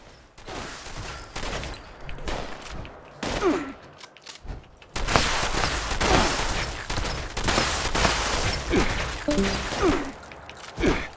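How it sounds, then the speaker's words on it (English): Repeated gunfire from a shotgun in the video game Fallout 76, with sharp blasts spread across the clip, a pause near the middle, then dense, loud volleys; a few faint vocal sounds mixed in. "Shotgun time"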